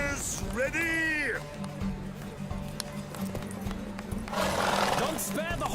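Horses racing in The Witcher 3, hooves clip-clopping rapidly alongside a loud whinny near the start and rushing noise later, with a voice talking over the gallop.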